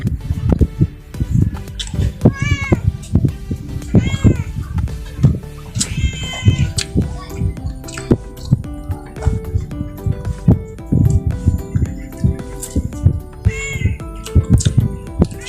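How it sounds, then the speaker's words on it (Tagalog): Several cats meow repeatedly, with drawn-out, wavering cries rising over close, loud chewing and eating noises during a meal of tilapia cooked with bamboo shoots in coconut milk. "Yung mga pusa nanonood sa akin."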